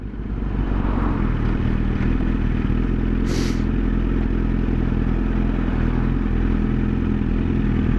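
A motorcycle at riding speed gives a constant, loud engine drone with a brief click partway through, and nobody speaks.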